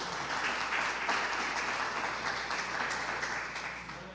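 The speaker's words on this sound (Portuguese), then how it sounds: "Aplauda Jesus por isso." Applause from a church congregation fills the space, a steady wash of many clapping hands at moderate level that eases off slightly toward the end.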